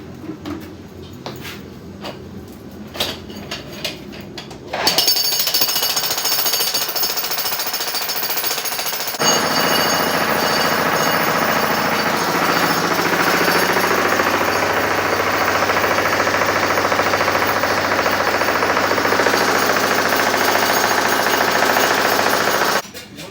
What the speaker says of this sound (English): Drilling takes a lot of work.